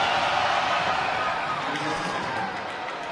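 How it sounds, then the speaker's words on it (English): A basketball crowd at a Wolves vs Raiders game roars steadily, a dense, loud wash of cheering voices that holds for about three seconds before easing slightly, with an announcer's speech mixed in. "You can hear the crowd here"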